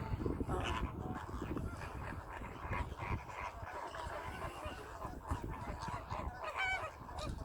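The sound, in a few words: flamingos calling in the UAE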